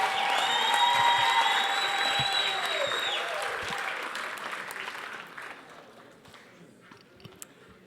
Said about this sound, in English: Can we give Ekurhuleni another round of applause,